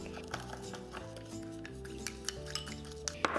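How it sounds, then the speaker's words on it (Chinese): A spoon stirs soy sauce, salt and sugar together in a small bowl, giving soft, scattered clinks against the bowl over steady background music. "搅拌一下。"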